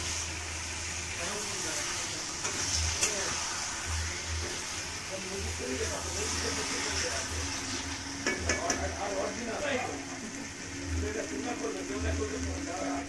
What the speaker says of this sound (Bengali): এই মাংসটা কষা হচ্ছে